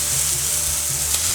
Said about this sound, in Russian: Вот наши стейки обжарились уже и с другой стороны.